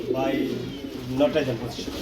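Racing pigeons coo close by in low, throaty repeated calls at a pigeon sale, with a few soft voices mixed underneath.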